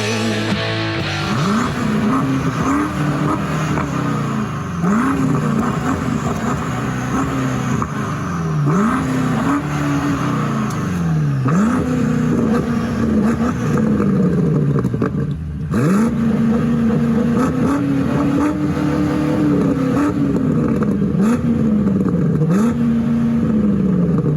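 A 2020 BMW M8 Gran Coupe engine is revved loud and close, over and over. It climbs and falls through repeated rising sweeps with brief dips between them across a long, unbroken stretch without speech.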